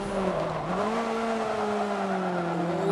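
Race car braking hard in Forza Motorsport 7, steady loud engine drone that dips in pitch as it slows, with a faint tire squeal running under it for about three seconds.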